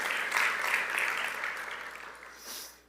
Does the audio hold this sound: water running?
no